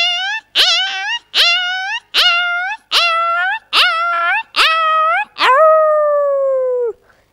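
A voice mimics a dog whining for food: seven short, rising whimpering yelps, then one long drawn-out falling whine, near and clear with no talk.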